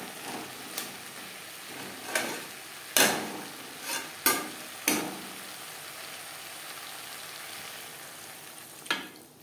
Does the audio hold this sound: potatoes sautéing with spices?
yes